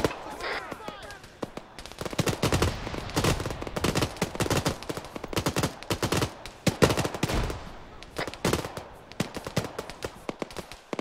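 Support fire from a 7.62 machine gun in a military shooter game: rapid, loud bursts of gunfire crackle in quick succession, with short pauses between volleys and a brief voice near the start.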